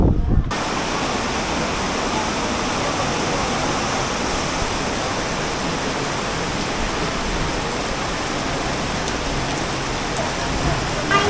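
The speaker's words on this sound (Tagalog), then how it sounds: "Taas ng ulan eh." Steady, dense downpour of heavy rain in Baguio, Philippines, hissing across all pitches, loud and continuous with no pauses, a constant wash of drops close by.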